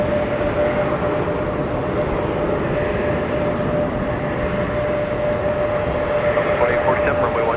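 An airliner rolls for takeoff at Minneapolis–St. Paul airport in a winter storm, a steady loud jet roar with a high whine running throughout, heard from a distance without pause.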